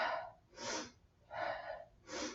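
Three sharp, forceful sniffing breaths taken through the nose during a Pilates twist on a mat, evenly spaced about a second apart, close and clear with no talking.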